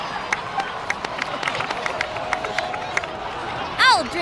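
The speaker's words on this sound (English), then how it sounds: "please give another round of applause for them" A crowd in the video game Genshin Impact cheers and claps in a light, scattered burst, ending with a quick rising electronic chime.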